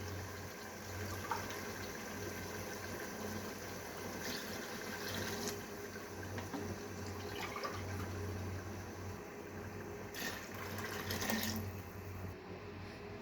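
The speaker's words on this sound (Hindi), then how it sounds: "अब हम इसमें चनों का पानी ऐड कर देंगे" Chickpea cooking water poured into a pot of fried chickpeas while making chana pulao, a soft continuous watery rush heard faintly against a low background hum, with no one talking.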